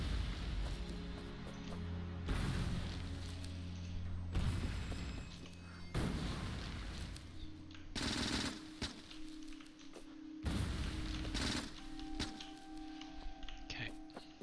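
Grenades in the game Factorio burst repeatedly to clear trees, several heavy booms breaking over a steady mechanical background hum, with a player talking between the blasts.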